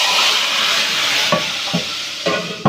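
Hot fried tadka tempering poured into cooked chana dal, a steady broadband frying sizzle throughout with a few short louder bursts as portions hit the liquid, close and alone with no talking.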